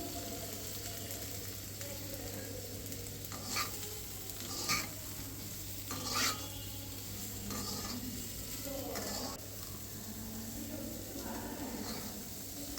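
Water lily stems are stirred and fried in a pan, with a low continuous sizzle broken by several short scraping stir strokes.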